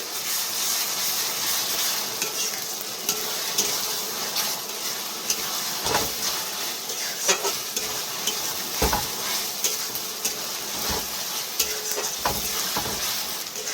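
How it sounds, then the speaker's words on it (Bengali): Ginger, garlic and chili paste are stirred into chicken frying in a pan. A constant loud sizzle is broken by repeated scrapes and clacks of a spoon against the pan. "আদা রসুন আর লঙ্কা বাটা, এই চামচের 2 চামচ আছে, বড় চামচের, দিয়ে দিলাম, দিয়ে মিক্স করে নিচ্ছি"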